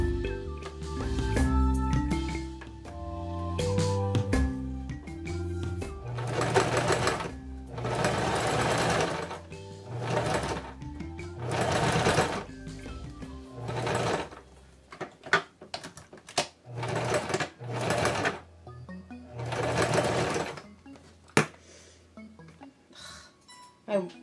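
A sewing machine stitches doll jeans in repeated short bursts with backstitching, the motor whirring on and off in several loud runs separated by pauses, with clicks and handling between runs.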